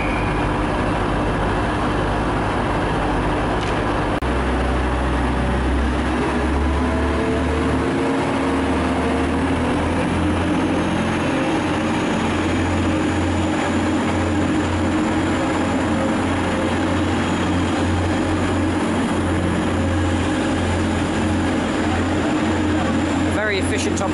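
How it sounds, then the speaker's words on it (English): Two coupled diesel multiple unit trains, 105-103 and 105-113, pull away from Preston station, a steady low engine rumble and drone building under a platform announcement, with a brief metallic clank early on. "105-103 and 105-113 now coupled will now depart for Manchester Airport."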